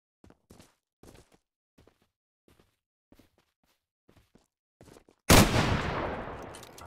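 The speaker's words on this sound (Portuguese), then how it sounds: "Tem cara full atirando." Gunfire in the survival shooter Unturned, on a Brazilian extraction-mode server. Faint scattered footsteps and thuds lead to a sudden loud blast that fades out over a second or two.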